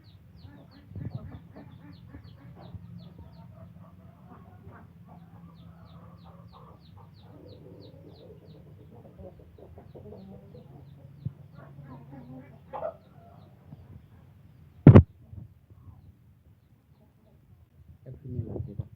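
Chickens, including a native desi hen, cluck softly and intermittently nearby, with low murmuring clucks, one sharp loud squawk, and a person speaking over them.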